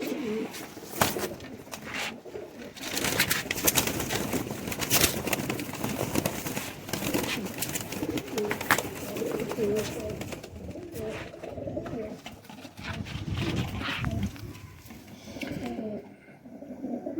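Pigeons kept as flying breeds, cooing with soft wing flutters and rustling, close and continuous, with faint voices in the background.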